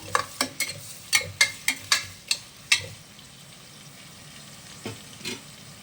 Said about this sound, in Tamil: நல்லா வந்து கோல்டு கலரில் ஆனியன் வந்து ஃப்ரை ஆகட்டும்